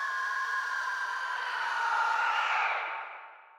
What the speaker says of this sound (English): What you're hearing are the pleasing tones of an Aztec death whistle.